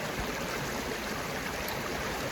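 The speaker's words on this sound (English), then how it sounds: "I am currently back at the creek" An outdoor creek flows in a steady, soft rush of water that runs evenly throughout, quiet and unbroken, with no voices.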